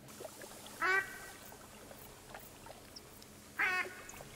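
Ducks in The Hunter: Call of the Wild give two short bursts of loud, nasal quacking, one near the start and one near the end, over a quiet outdoor ambience with no talk.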